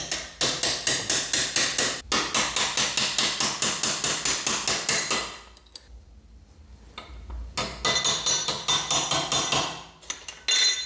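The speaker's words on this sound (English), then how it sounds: "I'm just gonna use a long extension to tap these bolts out." Sharp metallic hammer taps drive bolts out of a Kawasaki ZX10R with a long extension, a rapid run of regular close blows, a pause, then another quick burst of strikes.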